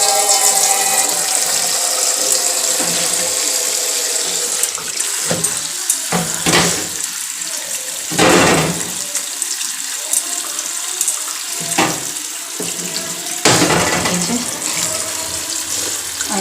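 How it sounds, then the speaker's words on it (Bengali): Spinach is rinsed under a running kitchen tap, with a loud steady gush of water and repeated splashing surges as the leaves are handled in the sink. "আরেকবার ভালো করে পালং শাকটা ধুয়ে নিচ্ছি"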